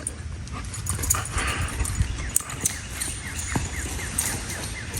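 A dog whimpers and whines in short, faint bursts near a truck and a 10-foot Lowe 1032 jon boat, over a constant low rumbling background with no one talking.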